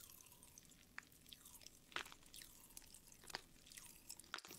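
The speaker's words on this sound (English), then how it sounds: "I'm gonna eat more bread." Bread is chewed close to the mic in faint, soft bites and crunchy mouth sounds, irregular and quiet with a few sharper clicks.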